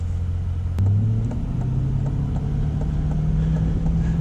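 A 2021 C8 Corvette with its engine mounted mid-body rumbles steadily as it drives, its deep engine note climbing slightly under acceleration and holding a continuous, close drone throughout.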